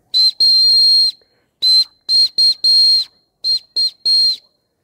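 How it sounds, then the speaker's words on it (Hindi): A shrill whistle from an SOS survival kit is blown in a series of sharp blasts: short toots mixed with longer ones, like a distress signal pattern, loud and close with silence in between. "तो आप इस विसल को ब्लो कर सकते हैं। इस विसल का साउंड कुछ इस तरह है।"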